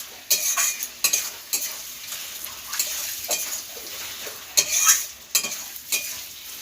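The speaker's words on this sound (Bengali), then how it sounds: "আদা আর রসুনের একটা কাঁচা গন্ধ থাকে সেটা যতক্ষণ না যাবে তেলের মধ্যে ভালোভাবে নেড়ে যেতে হবে" Ginger, garlic and onion are stirred in hot oil in a pan for a chicken dish, a constant close sizzle broken by sharp, repeated clacks of the spatula against the pan.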